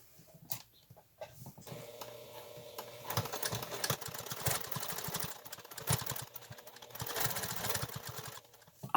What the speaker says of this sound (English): I'm going to sew up to that little line here where I have serged it